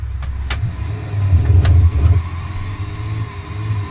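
A van with no exhaust fitted idles and revs in the BeamNG driving game, a low droning engine hum swelling briefly louder mid-clip with a few sharp clicks, no voices.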